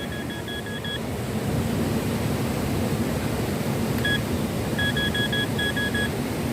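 A metal detector gives repeated short high beeps in quick runs over iron-bearing mineral rock, heard outdoors in remote Papua against a steady wash of broadband noise.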